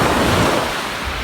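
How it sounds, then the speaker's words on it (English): Waves wash onto a secluded beach in New Zealand, a steady broadband surf roar with some wind buffeting the microphone, fading slightly after the first half-second. "Found this secluded beach."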